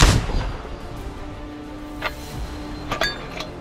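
Artillery shot from a Ukrainian mechanized battalion fire-support platoon near Kharkiv: a sharp crack near the start, then quieter distant thumps and clinks later, with no talk over it.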